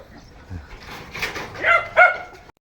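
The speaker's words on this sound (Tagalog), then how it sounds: "Ang aso." A dog barking nearby, a short burst of a few yelping barks that builds in loudness and then stops abruptly.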